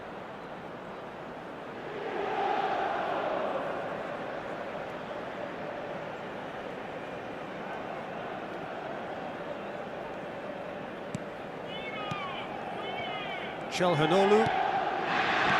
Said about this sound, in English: Certainly gave this crowd something to really cheer about.